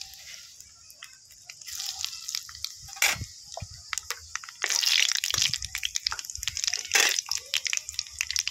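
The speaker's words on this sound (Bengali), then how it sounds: "তেলের মধ্যে এবারে কালো জিরে ফোড়ন দিয়ে দেবো।" Black cumin seeds dropped into hot mustard oil in a pan crackle and sizzle, with sharp pops and bursts of spitting hiss rising over a quiet base, close and fairly loud.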